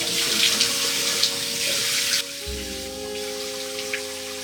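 Tap water runs steadily into a bathroom sink during a morning face wash, a loud close rush that cuts off partway through, leaving a quieter hum and a few stray drips.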